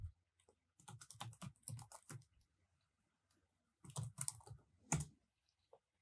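Fingers type on a computer keyboard in two quick clusters of close, crisp key clicks separated by a pause, with a few isolated taps.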